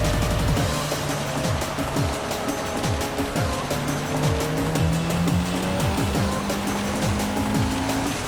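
A race car driven in the rain roars past with revving, shifting engine tones and rising, falling pitch sweeps, layered over a constant hiss of wet spray.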